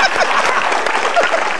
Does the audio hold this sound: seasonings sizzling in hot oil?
no